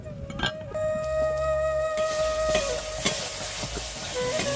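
Fish sizzling as it goes into hot oil in a heated wok, a steady loud frying hiss that swells after a clatter and carries on alone without talk.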